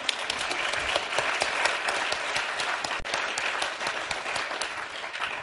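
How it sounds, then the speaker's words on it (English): Steady, sustained applause from a sizable audience, dense clapping holding at an even level throughout with no voices. "Yeah, it's okay to clap."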